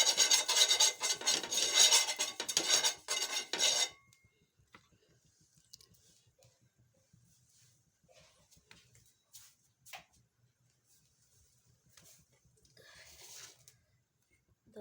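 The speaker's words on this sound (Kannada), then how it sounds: "ಈಗ ನಿಮ್ಮ ಎಣ್ಣೆ ಹಚ್ತೀನಿ ನೋಡ್ರಿ" Oil is spread across a hot dosa pan for a tomato-onion dosa, with a short burst of scraping and rasping rubbing at first, then near silence broken by faint clicks and light handling noises.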